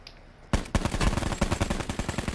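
Automatic gunfire in the Call of Duty Blackout video game breaks out suddenly after a quiet moment, then keeps going as a loud, dense rapid-fire stream of shots with no talking.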